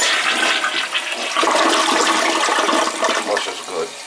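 A newly installed elongated toilet flushes: a loud, steady rush and swirl of water at close range that lasts throughout, easing off slightly at the end, with no voices.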